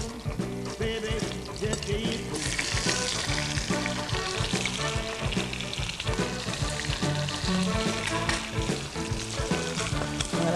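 A pork chop fries in very hot butter and oil in a heavy skillet, a loud, close, steady sizzle crackling throughout with no talk.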